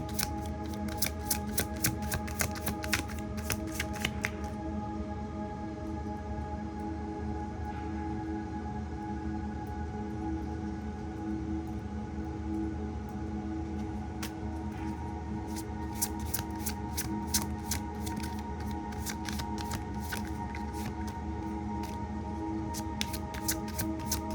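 Tarot cards being shuffled in a quiet room give off bursts of crisp riffling and snapping, first at the start, then again and more densely near the end, over a steady low hum with no talking.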